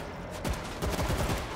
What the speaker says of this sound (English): All right, I got a stationary machine gun.